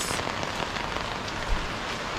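Steady rain falls on surfaces outdoors as a soft, even hiss of many drops, fairly faint and unbroken throughout.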